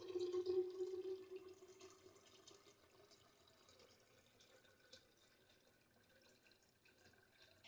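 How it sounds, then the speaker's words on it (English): Water running into glass candle holders, a faucet-like stream that starts louder and then settles into a quieter, steady trickle for several seconds, close up, with no talking. "So first thing we're going to do is fill these up with water."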